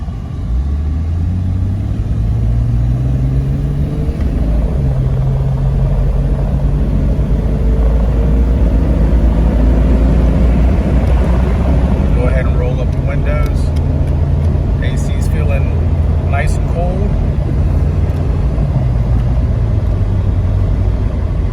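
A 1998 Jeep Cherokee cruises down the road, its engine drone and tire rumble steady and loud throughout, with a rising engine tone midway and someone talking over it.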